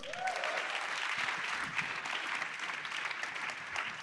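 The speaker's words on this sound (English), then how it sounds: "A round of applause." Conference audience applauding at an opening ceremony, a steady dense wash of many hands clapping at moderate distance, sustained evenly throughout with faint crowd murmur.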